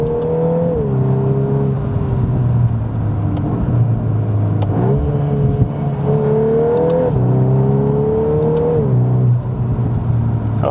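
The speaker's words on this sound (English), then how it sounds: "the Agrapovich exhaust system in the back is popping and banging" A 2021 VW Golf R with an Akrapovic exhaust accelerates hard on the Autobahn, its engine note climbing and dropping through gear shifts. Faint crackles and pops come from the exhaust, all heard from inside the cabin.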